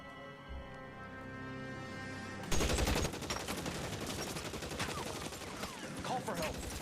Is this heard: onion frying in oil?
no